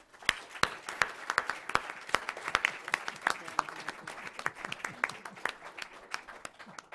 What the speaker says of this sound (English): I would like to ask you for a round of applause for our speaker